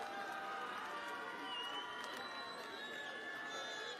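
A large crowd at an AAP political rally in Madipur, Delhi, keeps up a continuous roar of cheering and clapping, dense and steady throughout with occasional sharper shouts rising above it.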